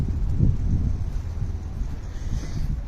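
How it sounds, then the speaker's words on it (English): Outdoor wind buffeting a microphone at a classic car show and autojumble in Newark, a steady low rumble that swells and gusts throughout, fairly loud and close, with no other clear sounds. "There is a little bit of wind today, but it's not too bad."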